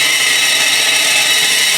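A power drill bores into a magnesium part during a Mitsubishi Evo 8 rebuild, giving a steady, loud, high-pitched whine that holds unbroken and close throughout, with no talk.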